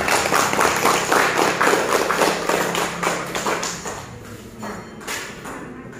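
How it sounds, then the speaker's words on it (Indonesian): Applause fills a classroom, a dense run of many hands clapping together that stays loud for about four seconds, then thins out and fades to scattered claps near the end. "tepuk tangan dulu"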